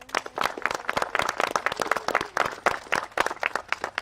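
A modest round of clapping from an event audience welcoming a man introduced on stage, individual claps distinct and uneven, fairly close and moderately loud throughout.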